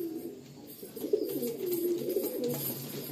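Black pigeons coo in a breeding loft, a low, continuous rolling cooing close by with faint rustles and no talk.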